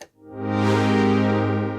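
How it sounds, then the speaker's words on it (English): Warm analogue-style distortion thickens a sustained synth tone with dense harmonics, swelling in after a brief dip and holding loud and steady without any voice. "Oh, a bit of distortion."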